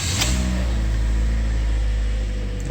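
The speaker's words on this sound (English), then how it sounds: "This is how this car specifically sounds." A Toyota engine on a cold start idles with a steady low rumble and slightly raised revs, running close and continuous without noticeable changes in pace.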